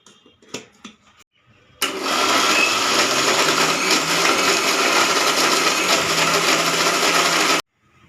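A mixer grinder whirs loudly and steadily for several seconds as it grinds an egg gravy masala with curd, starting abruptly after a few soft knocks and cutting off sharply.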